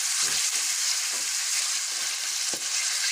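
Chicken and a small onion fry together in a pan, producing a loud, dense, continuous sizzle close up with a few faint stirring knocks underneath.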